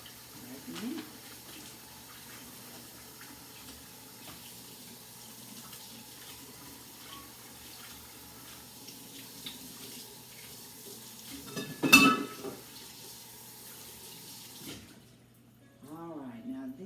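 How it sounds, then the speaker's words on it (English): Tap water runs quietly over St. Louis style pork ribs at a sink, a low steady trickle with a louder splash near the end, while a person talks over it. "So all you have to do is open it up and give it a rinse, which is what we're going to do."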